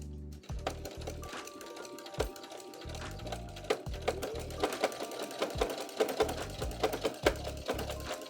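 A home embroidery sewing machine stitches in close, rapid bursts of mechanical clatter, stopping and starting repeatedly with brief pauses between runs.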